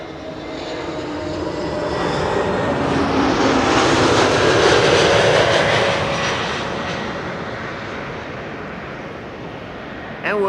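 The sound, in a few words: A321neo airliner landing on arrival from Dublin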